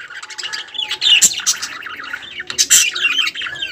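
Pet budgies (lovebirds) chirp and tweet in rapid bursts, several birds calling close by with sharp squawks, no talking.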